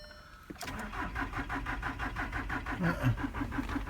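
Car engine cranking without catching, a rapid rhythmic starter chug that begins abruptly and repeats steadily for a few seconds, fairly faint and close with no talk.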